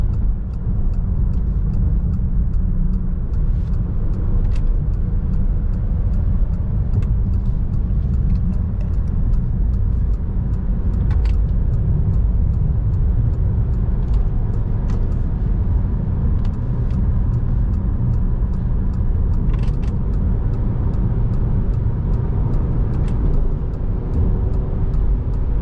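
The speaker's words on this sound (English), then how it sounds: "Merging onto the highway now." A 2023 Mitsubishi Outlander SEL Premium drives onto a highway at night, its cabin filled with a steady, loud low road rumble and engine drone that holds constant and uninterrupted throughout.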